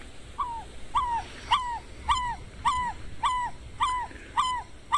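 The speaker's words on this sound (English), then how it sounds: "That is the sound of the African barred owlet" An African barred owlet calls in a steady series of about eight short, downward-bending hoots, evenly spaced and fairly clear against a quiet background, played back from a recording.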